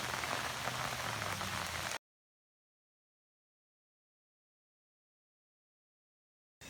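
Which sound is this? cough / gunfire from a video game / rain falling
rain falling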